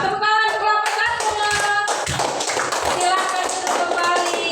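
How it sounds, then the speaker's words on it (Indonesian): A classroom group of students gives rhythmic, close applause for a presenting group, the claps tapping in a steady beat with young voices chattering over them. "Tepuk tangan untuk kelompok 1."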